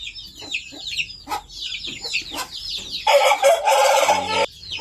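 Shamo chickens cluck in quick, excited bursts at close range, then a rooster lets out one loud, drawn-out crow near the end. No voices are heard.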